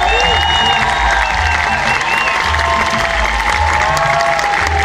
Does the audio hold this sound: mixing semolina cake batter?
no